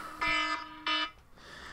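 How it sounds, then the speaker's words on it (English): Two short electronic alarm beeps, harsh buzzing tones each lasting under half a second, followed by quiet. "Sorry, I forgot to turn off my alarm."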